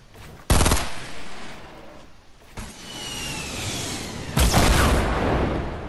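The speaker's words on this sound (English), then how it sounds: "I got shot in the back." Gunfire in the Fortnite video game comes in three sharp, loud bursts spaced a couple of seconds apart, each followed by lingering game noise and faint whistling effects.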